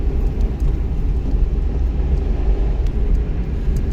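A car's engine rumbles loudly and steadily during a first-day driving lesson as it accelerates in a low gear, with the drone held close and continuous.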